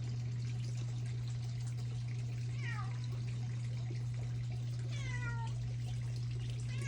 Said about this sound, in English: Here's my kitty cat.